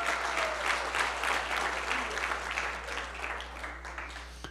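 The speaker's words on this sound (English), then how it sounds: "give Jesus a clap and a shout" A church congregation claps and cheers at a Foursquare service, with dense, sustained applause and crowd noise throughout the short span at fairly high loudness.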